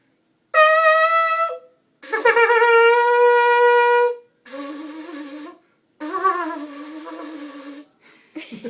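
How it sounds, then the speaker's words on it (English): A shofar, a ram's horn, blown in four separate calls, each a sustained buzzy brass-like tone rich in harmonics, some with wavering or rising pitch, loud and close with short gaps between. "A shofar is a ram's horn that is blown on various religious occasions."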